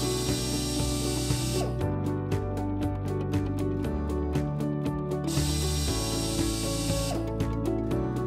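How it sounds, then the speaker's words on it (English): Power drill boring two pilot holes into a wall to mount the latch bracket of a Cardinal Gates SS-30 stairway safety gate, a steady whirring motor with ratcheting clicks, close and continuous, with no speech. "using a drill, drill 2 pilot holes on the marked locations."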